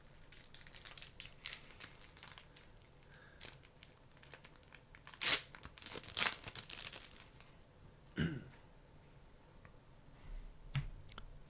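A Magic The Gathering card pack wrapper is opened close up with quiet, intermittent crinkling and clicking, a few sharper tearing rustles standing out against near silence.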